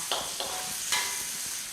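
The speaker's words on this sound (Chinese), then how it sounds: "记得蒜苗头子先下" Garlic sprout stems hit a hot wok of Sichuan twice-cooked pork, giving a loud, even sizzle with three quick spatula scrapes near the start and then a steadier frying hiss, nearby and without voices.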